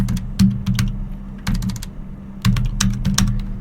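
Python code typed on a computer keyboard, close and brisk clusters of key clicks with short pauses between bursts, and no talking.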